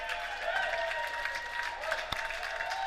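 A crowd claps at a professional squash doubles quarterfinal in St. Louis, a steady, fairly distant patter of applause sustained for a few seconds with one sharp knock partway through.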